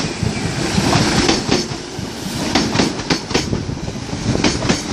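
A Merseyrail train passes through Sandhills station on the Southport line, a loud close rumble with rhythmic clickety-clack of wheels over rail joints running throughout.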